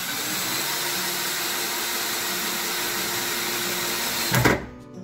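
Power drill driving 45 mm quick screws into wood blocks from below while fitting out a camper van cabinet, a steady loud whirring motor drone that surges briefly and then cuts off near the end.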